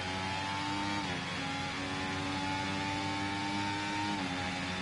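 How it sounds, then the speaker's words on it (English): An F1 car engine in the game F1 24 holds a high, steady whine, briefly dipping in pitch twice as it shifts, with continuous loud tonal drone and no voices. "Hated F1 24's engine noises and handling."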